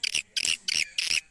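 Swiftlets calling in a rapid series of close, bright chirping bursts, about five pulses in quick rhythm with brief gaps, shrill and insect-like with no talking over them.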